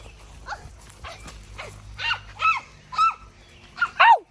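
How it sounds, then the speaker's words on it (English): Several dogs bark and yelp at close range in a rough, uneven series of sharp bursts that grow louder toward the end, with no talk over them. "Them dogs almost bite me"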